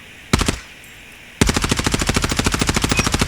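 CBR4 assault rifle fired in a ranked match of a first-person shooter: one short burst, a pause, then a long, loud, steady full-auto stream of rapid, evenly spaced shots.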